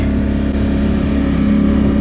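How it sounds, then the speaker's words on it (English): A Polaris Sportsman 1000 XP ATV engine holds a steady, loud, close drone while engine braking down a steep trail descent, with no talk. "You really use the engine braking a lot"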